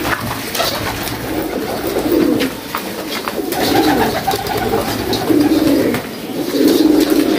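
Pigeons coo repeatedly in soft, low, rolling phrases, fairly close, over a steady background with some faint chirps.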